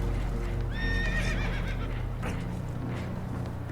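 Spooked horses in the video game Red Dead Redemption 2 let out a sharp, close whinny that trails into agitated neighing, with hooves clopping beneath over a steady low rumble of water and boat.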